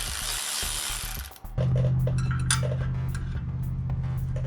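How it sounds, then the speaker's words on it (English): A ratchet wrench backs a bolt out of a bracket on a Toro Timecutter SS4200 zero-turn mower, with rapid close-up pawl clicking and metallic chinks that start loud and continue steadily. "Let's back that bolt out and see what things look like."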